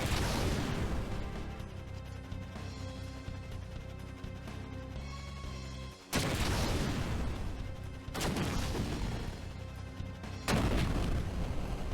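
Gunfire exchanged in a battle in the video game Final Fantasy 4, heavy booming blasts and rumbling volleys that fill the air, with sharp new bursts hitting again every couple of seconds.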